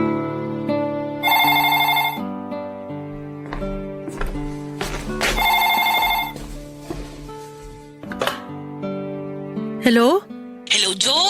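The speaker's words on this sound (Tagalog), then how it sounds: "nagulat na lamang ako nung siya na mismo ang tumawag sa akin, Papa Dudut." A telephone rings in repeated bright electronic bursts, loud and close, alternating with short gaps, while music and other sounds continue underneath.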